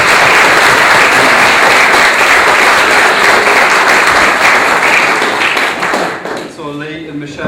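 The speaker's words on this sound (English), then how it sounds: "Give her a nice round of applause." Wedding guests at Redworth Hall applaud loudly, a dense sustained clapping that fills the room for about six seconds before tapering off, as a voice begins talking near the end.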